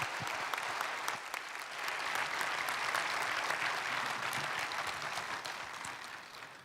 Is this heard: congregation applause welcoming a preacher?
yes